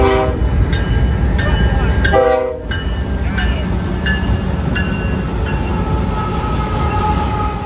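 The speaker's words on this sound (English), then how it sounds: "It is a high-priority intermodal led by 3 locomotives with 1 DPU trailing at the rear." BNSF high-priority intermodal freight train in Minot, North Dakota, led by three locomotives with a trailing DPU, rumbles past close by with steady wheel and wagon noise and repeated loud horn blasts.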